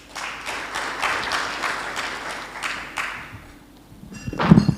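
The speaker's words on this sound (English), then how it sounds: "Another round of applause, ladies and gentlemen," An audience at a public consultation on legal and policy frameworks claps in a lively burst that fades after a few seconds, followed by a couple of louder thumps near the end.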